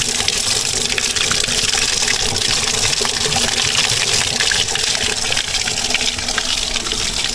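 Cold mountain spring water gushes and splashes steadily, a loud close rushing stream with no voices over it.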